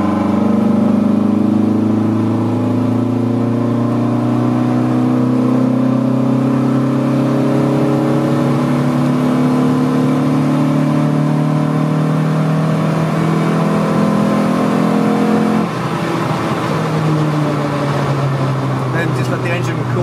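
A 1983 VW Rabbit GTI engine pulls steadily uphill on a mountain hill climb, its drone rising slowly through a long gear with a brief dip and shift late on, loud and close throughout.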